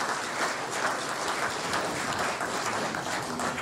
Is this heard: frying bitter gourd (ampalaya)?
no